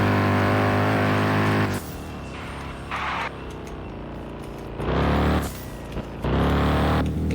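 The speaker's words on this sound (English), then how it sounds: "this car is super loud" A modified Audi RS7 being driven hard on a race track, its loud exhaust roaring close by and rising and falling in surges as the throttle opens and lifts between gear changes.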